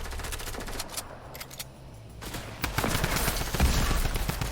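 Bots in the video game Fortnite trade gunfire, a dense fusillade of rapid machine-gun bursts and single shots at close to mid distance, pausing briefly before resuming heavier.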